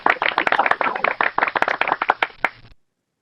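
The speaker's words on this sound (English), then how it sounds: "let's all welcome Professor Noah Feldman with a big round of applause" Sparse applause welcoming a law lecturer, a small group's clapping with distinct individual claps at close range, fading out quickly after under three seconds.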